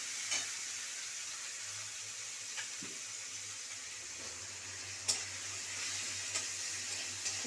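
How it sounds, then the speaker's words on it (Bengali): Mashed onion seasoned with a little salt fries quietly in hot oil, a soft steady sizzle broken by a few sharp scraping clicks as it is stirred, close and fairly faint under a low hum, with no talking. "এবার পেঁয়াজটাকে আমি একটু ভাজবো আগে নাড়িয়ে।"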